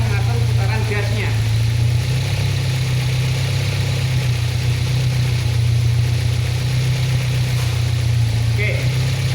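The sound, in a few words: Toyota Corona EFI engine idling on engine stand, about 750 rpm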